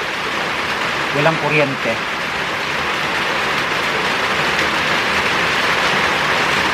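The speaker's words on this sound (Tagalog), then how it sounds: "pang-apat na araw na umulan" Heavy rain pours steadily on the third day of downpour during a total blackout, a dense, even wash of noise while a person speaks briefly.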